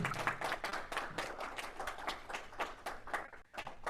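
Audience at a Toastmasters club open house meeting applauds new members, a fairly quiet, steady patter of clapping hands from a modest crowd with no talk.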